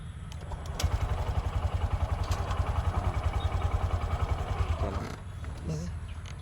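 A motorcycle engine chugging with a fast, even pulse as the clutch is eased out and it pulls away, close and fairly loud, with a voice speaking over it.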